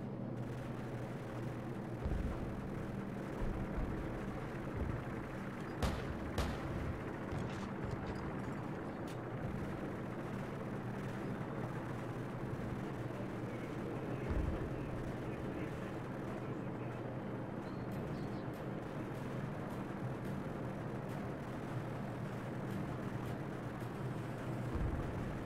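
An AC-130 gunship in Call of Duty 4: Modern Warfare drones steadily overhead while its cannons fire a few distant, muffled blasts against a constant rumbling background.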